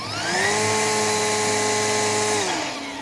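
A RIDGID 18V cordless string trimmer running at its higher speed setting 2, a steady high-pitched motor whine that holds constant for a few seconds before easing off, close and loud, with no speech.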